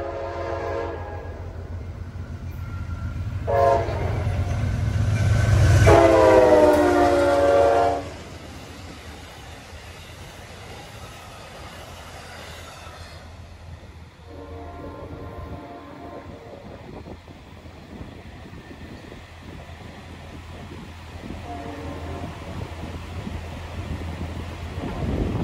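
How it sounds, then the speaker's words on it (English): An Amtrak train led by Heritage phase four unit 184 at Chesapeake sounds a loud horn for several seconds, then rolls past with a long, steady rumble and clatter of cars amid light wind. "second Amtrak Heritage unit, number 184, the phase four in the house."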